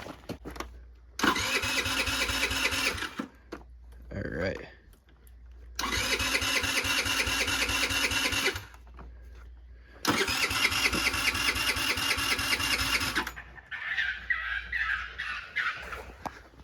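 A cheap used scooter engine, jump-started, sputters to life in three separate close, loud bursts of running, each lasting a few seconds with quiet gaps between, followed by a rougher, fainter rattle; a voice speaks briefly.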